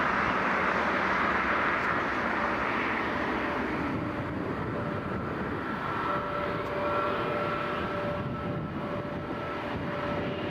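An airliner takes off from Toronto Pearson airport, its jet engines making a loud, steady roar that fills the whole stretch. A faint tonal whine rises toward the end.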